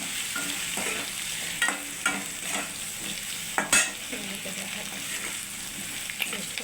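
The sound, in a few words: stirring spices in a pan for fish curry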